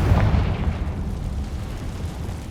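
Confringo blasting spell explosion in Hogwarts Legacy, a loud, deep boom that hits at once and rumbles down over a couple of seconds, alone without voices.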